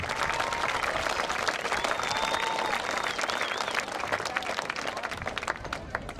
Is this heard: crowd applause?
yes